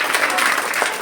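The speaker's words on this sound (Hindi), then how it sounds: "मैं चाहूंगा कि जरा फर्स्ट के लिए आप लोग जोरदार तालियां।" Audience applause at a school's first-term exam results ceremony in Aara, a brief, dense burst of clapping from a gathered crowd, steady and fairly loud throughout.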